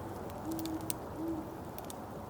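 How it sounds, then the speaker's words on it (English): Great horned owls hoot twice, low and soft, on a late-winter night outdoors. The hoots sound distant over a steady background hiss, with no voices. "those are great horned owls that you're hearing there."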